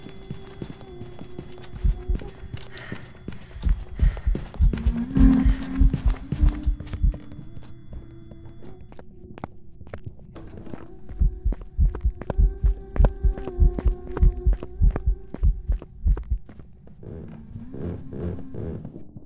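Ghost footsteps in the horror game Phasmophobia thud heavily in steady rhythmic runs of close, loud steps. A low hum sits underneath, and the walking pauses briefly before starting again.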